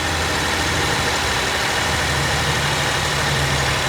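A Tata Nexon with its new petrol engine idles, giving a steady, even low hum with a broad hiss, constant and close for a few seconds with no talking.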